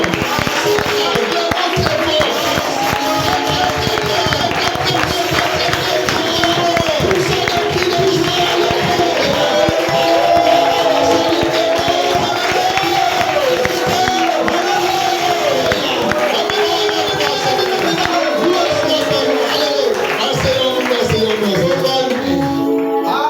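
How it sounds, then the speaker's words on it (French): A church congregation cheers and acclaims loudly in a continuous, dense crowd roar with whoops and some clapping, sustained throughout at steady high volume. "Acclamons très très très fort pour la parole de Dieu"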